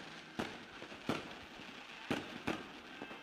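Fireworks bursting at the Diwa festival, four sharp loud cracks spaced irregularly over a steady crowd-like background hiss, with a couple of fainter pops between.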